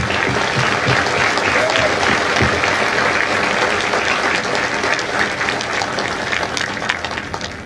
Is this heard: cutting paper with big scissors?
no